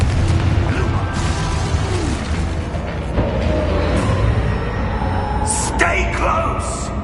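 A Confringo fire spell explodes during a Hogwarts Legacy fight, with dense bursts and rumbling blasts running under constant loud action, shouted spell names and other voices.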